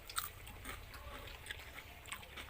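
Someone bites into and chews a freshly fried eggplant fritter coated in gram-flour batter, giving a few faint, close crunches spread over a quiet, soft background.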